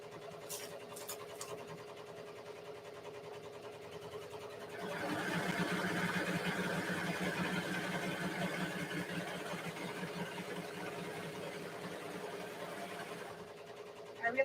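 A sewing machine stitches skorts, starting after a quiet stretch and then running in a steady close mechanical whir with rapid needle pulses for several seconds before stopping.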